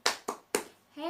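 A third-grade class gives Adi a 'tepuk hebat' clap: three crisp, evenly spaced claps, then a voice begins right after.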